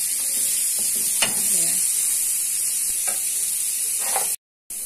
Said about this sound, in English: Caramelize lang natin siya. Okay, using the oil that we use when cooking the burger.